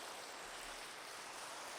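Soft, continuous rain falls in Minecraft, a faint, even hiss of drops with no distinct pattering or other sounds over it.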